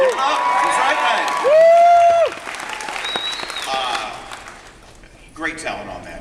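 A convention audience bursts into applause and cheers for Fright Night, clapping and whoops rising and fading over a few seconds while voices and a sustained sung note mix in.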